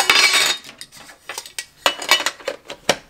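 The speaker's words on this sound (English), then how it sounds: "Excuse the noise, that's the case from the watch." Watch case being handled close by, giving light clicks, taps and clinks in irregular bursts, with a rustling scrape at the start and no talk.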